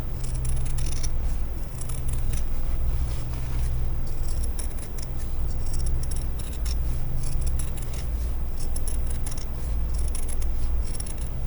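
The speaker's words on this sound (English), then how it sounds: "I'm just cutting around this." Scissors snipping steadily through fabric to cut out a scrappy sloth appliqué for overalls, close and continuous crunching cuts over a low hum.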